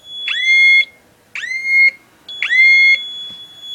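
Tamper alarm in a closet fort ceiling, tripped by a motion sensor, sounds three loud, shrill electronic beep bursts of about half a second each, separated by short pauses.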